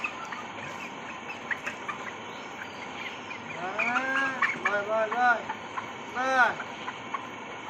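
Chickens at a village poultry farm give a few loud, arching squawks in the middle of the clip while one bird is caught for weighing, over a steady low background hum.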